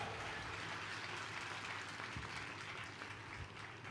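A church congregation claps hard together, a continuous, even roar of applause heard from within the gathering, with no pause over the few seconds.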